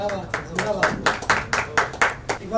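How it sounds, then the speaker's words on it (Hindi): A few audience members clap in a steady, rhythmic beat at a poetry evening, sharp separate claps about four times a second, close and fairly loud. "एक बार जोरदार तालियां हो जाए राहुल गुर्जर भाई के लिए।"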